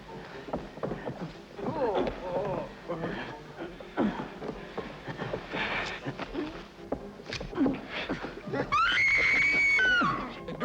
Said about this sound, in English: Do I hear a lady screaming?